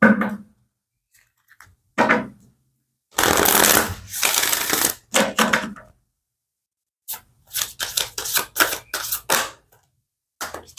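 A deck of Moonology oracle cards is shuffled close up in several separate bursts of riffling and flicking, with quiet gaps between them.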